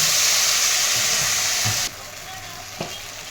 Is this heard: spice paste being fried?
yes